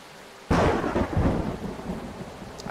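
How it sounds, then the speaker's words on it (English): Thunder cracks in suddenly and rolls on over steady rain in the virtual reality game Orbus VR, a single loud near clap with a long rumbling tail and no voices. "I do like the sound of rain"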